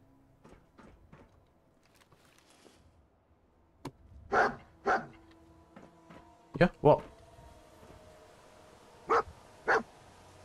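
A dog barks in the Fallout 4 video game, several sharp barks in pairs, fairly near, with a person talking between them.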